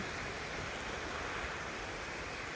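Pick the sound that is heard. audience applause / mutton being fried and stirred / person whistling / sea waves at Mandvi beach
sea waves at Mandvi beach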